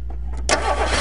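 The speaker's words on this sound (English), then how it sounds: "Engine on." A car engine with its valve cover removed cranks and catches, then settles into a loud, steady idle right after a short quiet lead-in.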